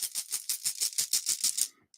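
Rapid, steady rattling of small hard tumbled crystal stones shaken together, about a dozen bright clattering bursts close up, then a brief faint click after it stops.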